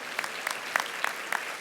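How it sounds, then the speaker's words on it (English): Sparse applause at an annual gala dinner, a few scattered claps spaced irregularly and fairly faint rather than a full ovation. "please clap."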